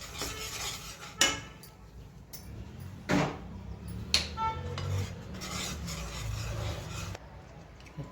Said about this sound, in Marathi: कमी गॅसवरतीच आपल्याला एकदम असं ढवळत राहायचं.